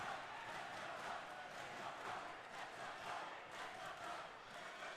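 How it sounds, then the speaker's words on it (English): Large crowd at a combat fight night roaring and cheering continuously, a dense steady wall of voices throughout. "Man, the crowd is rabid tonight."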